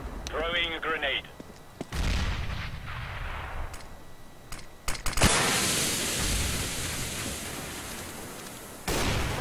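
A grenade detonates in a Counter-Strike-style shooter video game, sharp shots and a loud blast followed by sustained noisy rumble, with a brief voice at the start.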